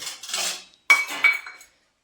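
Metal utensils clink against a pot while masoor dal is being tempered in a home kitchen, with two short bursts of ringing clatter separated by a brief pause.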